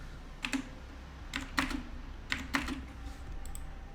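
Fingers type on a computer keyboard in scattered bursts of clicks, quiet and close, with short pauses between the groups of keystrokes.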